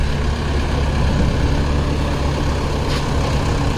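A 575 DI 45 hp tractor idles nearby at a sugar mill with a steady, low diesel rumble and throb that continues unchanged throughout.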